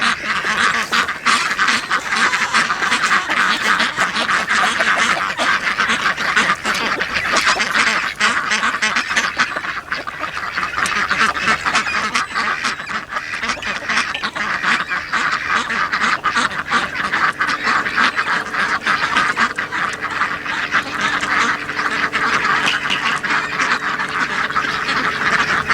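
Flock of ducks and geese on a homestead quacking and honking continuously and up close, a dense, overlapping chorus with no speech.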